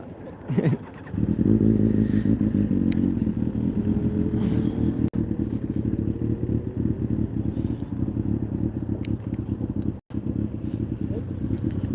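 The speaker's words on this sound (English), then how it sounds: "Let me get on back of the motorcycle." Motorcycle engine at a bike race, a loud steady drone with revving surges heard up close from the machine while riding, with brief clatter and occasional voices.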